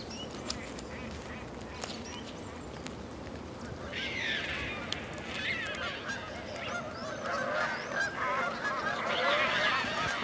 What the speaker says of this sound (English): there's a new sound in the air. The geese are starting to return from their wintering grounds.